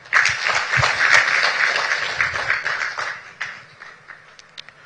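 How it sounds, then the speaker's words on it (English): Audience applause at an entrepreneur empowerment ceremony, a dense steady wash of clapping from a large crowd that thins and fades out toward the end, with scattered individual claps. "Another round of applause."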